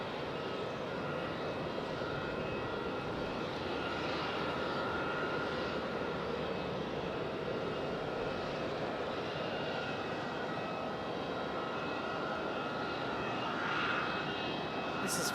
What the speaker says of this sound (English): Boeing 737-800 coming in from Philadelphia again